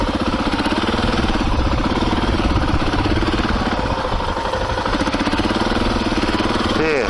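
A small motorbike with a torquey clutch runs loud and close, its engine chugging in a steady rhythmic pulse the whole time, with a brief rising rev at the end.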